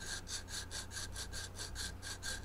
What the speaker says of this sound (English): Now I'm removing some of the wood from the heel cheeks with a rasp